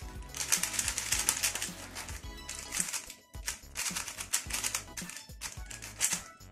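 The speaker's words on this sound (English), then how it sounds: "let's see how the cube turns" A new speed cube being turned by hand, likely a Gan 356XS, giving dense bursts of rapid plastic clicking and scraping in quick flurries with a short pause midway, close and fairly loud.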